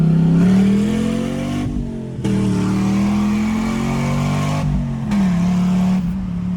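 Chevrolet Camaro V8 engine revving hard from inside the car, rising, dropping between gear changes and climbing again, loud and continuous throughout.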